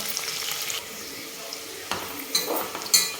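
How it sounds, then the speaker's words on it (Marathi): Onions fry over high gas for veg biryani, a moderate sizzle with stirring scrapes and a few louder clacks of the spoon toward the end. "तर आपण तळून घेऊ हा कांदा छान"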